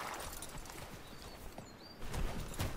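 Horse hooves clip-clop through a Wild West scene in the video game Gun, soft repeated steps under faint bird chirps, growing louder and heavier near the end.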